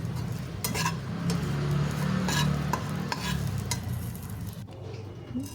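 Bitter gourd frying in a pan, stirred with steady scraping strokes over a continuous low sizzle; close and moderately loud, with no talking.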